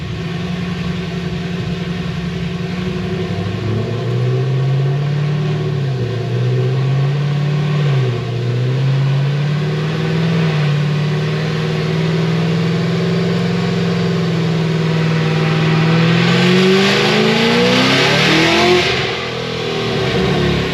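A supercharged 1100 hp Cadillac CTS-V running on E55 fuel revs loud and close, its engine note climbing and dipping through several pulls before surging sharply upward near the end.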